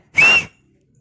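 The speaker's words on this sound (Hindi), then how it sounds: "तो उसने एक सीटी बजाई" A single sharp, shrill whistle blast rings out loud and close for about a third of a second, then stops abruptly, leaving silence behind it.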